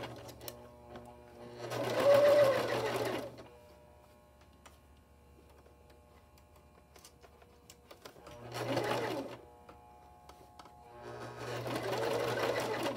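A home sewing machine stitches an 18-inch doll dress in three loud running bursts of steady rapid ticking, with a low motor hum and quiet pauses between them.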